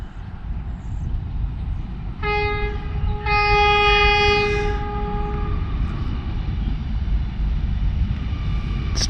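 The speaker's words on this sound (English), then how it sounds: "Sounds like the train was coming from Trenton, headed south." A passenger train on the River Line in New Jersey rumbles past close by, heading south from Trenton, and sounds a loud multi-tone horn in two blasts over the steady rail rumble.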